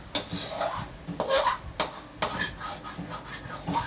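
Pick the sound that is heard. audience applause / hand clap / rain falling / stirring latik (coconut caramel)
stirring latik (coconut caramel)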